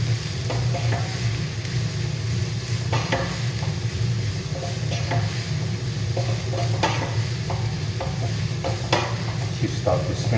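Onions and garlic with smoked paprika for a lentil bolognese sizzle steadily in a pan while a spoon stirs through them, scattered clicks and scrapes over a continuous low hiss and a background hum, close and without talk.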